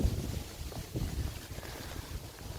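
Wind buffets an outdoor microphone with steady low rumbling gusts throughout, swelling and easing without pause, while someone walks a woodland area looking at mushrooms and toadstools.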